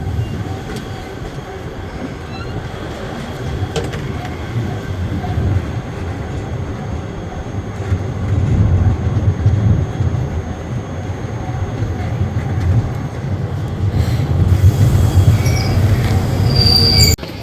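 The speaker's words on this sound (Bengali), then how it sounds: "এই যে তারাপীঠ রোড 2 নম্বরে ট্রেন দিল মা তারা" Train 13187 Maa Tara Express from Sealdah pulls into platform 2 at Tarapith Road station, a close, loud rumble of wheels and carriages with rising metallic squeals and clatter as it rolls in.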